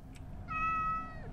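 A cat in the indie horror video game Occultation lets out a single clear, drawn-out meow, fairly close, over a quiet low background hum.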